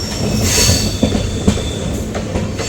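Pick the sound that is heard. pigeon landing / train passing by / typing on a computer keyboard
train passing by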